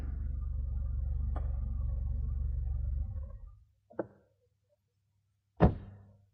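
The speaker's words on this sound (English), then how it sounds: "she heard the loud knocking at her door" Knocking at a door at night comes as two separate hollow knocks, the second louder, after a low hum fades out and leaves near silence.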